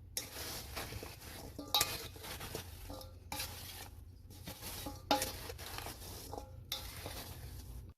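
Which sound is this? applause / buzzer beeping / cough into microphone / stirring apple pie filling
stirring apple pie filling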